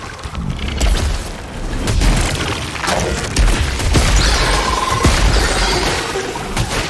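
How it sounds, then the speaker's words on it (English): Enemy laser waves firing in Returnal on PlayStation 5, a dense, loud barrage of booming blasts and sharp crackling impacts that keep coming in rapid succession throughout. "Love the way you have these waves of lasers still coming at you, even though the enemy's dead"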